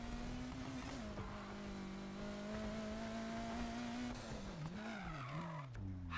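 A car drifting at a harbour in Need for Speed Heat, a continuous loud engine drone with sustained tire squeal that wavers and bends in pitch as the slide changes near the end.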